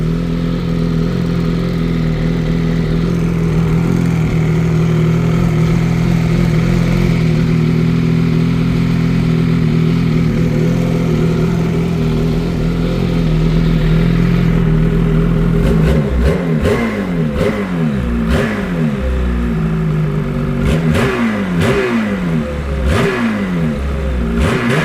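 A 2026 Ski-Doo MXZ XRS 850 Turbo R snowmobile with competition package idling loud and close, then revved repeatedly in sharp rising bursts over the last stretch.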